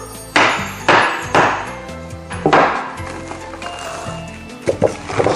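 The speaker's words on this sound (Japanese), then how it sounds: "仕方ないのでこのハンマーで割る。" A ceramic flower pot shaped like a sake cup is smashed with a hammer, giving several sharp, loud impacts with ringing clinks and a jumble of crumbling shards, followed by a few lighter knocks near the end.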